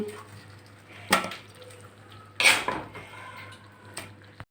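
Cooked spinach scooped from a pan into a bowl with a metal utensil, making a few distinct clanks and scrapes spaced a second or so apart, close and fairly quiet, against a low steady hum.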